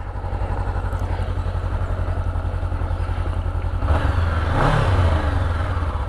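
A Honda CB 500X motorcycle from 2019 with its original exhaust idles in a steady close rumble, then revs up briefly with a louder burst before settling.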